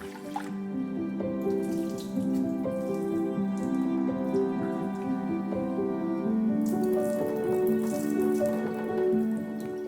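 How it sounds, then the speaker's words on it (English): Sushi rice is rinsed and drained in a saucepan, with a steady patter of trickling and dripping water continuing for the whole stretch over faint, sustained tones in the background. "Rinse and drain the rice 3 to 4 times to get rid of the excess starch."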